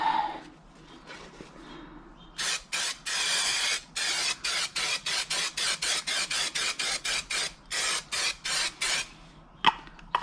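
Super 77 spray adhesive spraying from an aerosol can onto the back of vinyl for car door inserts: repeated short hissing bursts in a steady rhythm, some longer, close and fairly quiet, with no talking.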